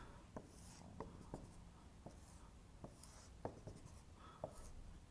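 A pen sketching a tan graph on paper, with quiet, close scratchy strokes and taps arriving in short uneven bursts while no one speaks.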